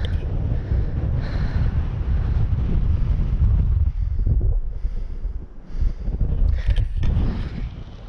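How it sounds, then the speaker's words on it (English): Heavy wind in Scotland buffets the microphone throughout, a constant low roaring rumble with gusts swelling and easing, no voices. "because it's too windy"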